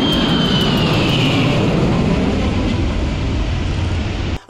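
A Russian A-50U airborne warning and control aircraft in flight gives a loud, steady jet roar with a high whine that slowly drops in pitch, then cuts off abruptly at the end.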